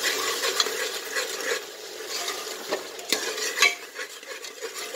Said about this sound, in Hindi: मसाले भून गए हैं